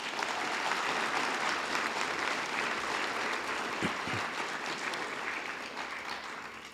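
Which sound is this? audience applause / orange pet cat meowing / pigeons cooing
audience applause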